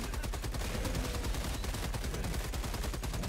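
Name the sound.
heavy machine gun turret firing in Helldivers 2 video game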